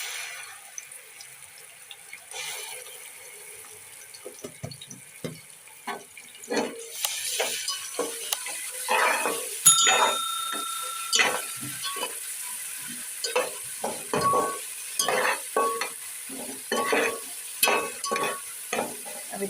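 Onion, cumin and ginger garlic paste fry in a pan for pulao, a steady sizzle with repeated close stirring scrapes of a spoon growing busier over time, no voices.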